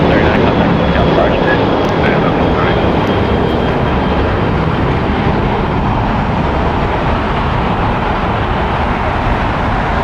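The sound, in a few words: Southwest Airlines Boeing 737-700 jet departing LAX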